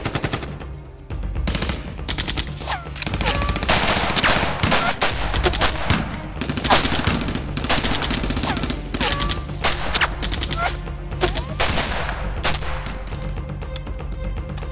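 Sustained automatic rifle fire in 7.62 calibre, a dense fusillade of rapid overlapping bursts, loud and close, continuing without pause throughout.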